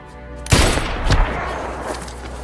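Gunfire exchange in a film: a loud sharp shot bursts out, followed by a second strong shot about half a second later, then reverberant echoes and scattered action noise trailing off.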